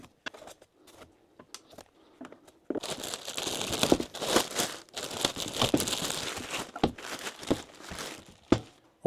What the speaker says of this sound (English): So I'm gonna get everything unwrapped,